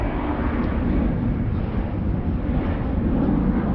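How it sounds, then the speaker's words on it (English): A steady, broad roar of a jet airplane taking off, continuous and fairly loud, with wind-like rushing noise and no voices. "Look, another airplane taking off."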